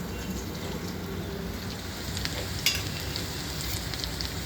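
Cooked mung beans and onion frying in hot oil, a steady soft sizzle with faint bubbling and a few small crackles, no voices.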